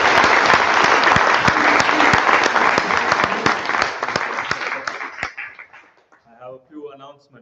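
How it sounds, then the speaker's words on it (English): Applause from a conference audience after a plenary talk, a dense burst of clapping that holds strong for about five seconds and then tapers off, followed by a speaker resuming at a microphone. "another big round of applause for Patrick and Jeff"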